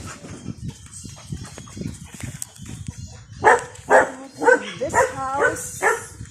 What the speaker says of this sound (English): they are very active dogs. We have the Belgian Malinois and the Huskies.